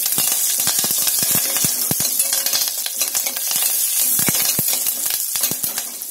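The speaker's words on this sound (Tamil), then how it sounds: "போட்டு நல்லா ஃப்ரை பண்ணணும்." Black pepper, cumin and curry leaves crackle and pop in hot oil for samai pongal, a dense close sizzle full of rapid sharp snaps, with no talking.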